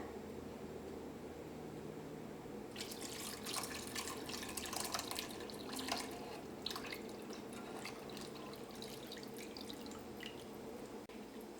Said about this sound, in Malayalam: ഇനി ഇതിലേക്ക് നമുക്ക് തേങ്ങാപ്പാൽ ചേർക്കാം.